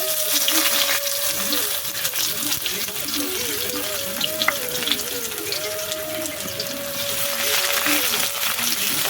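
Sliced onions with whole bay leaf, cumin and garam masala fry in a pan while being stirred, a moderate sizzle under scraping and clatter, with a steady tonal hum running throughout.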